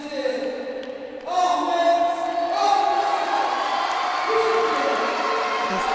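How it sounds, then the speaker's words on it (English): Arena crowd at a gymnastics World Challenge Cup medal ceremony in Mersin, Turkey, swells into loud sustained cheering and whooping for a home-nation gold, with a commentator talking over it. "get ready for a big cheer from the crowd"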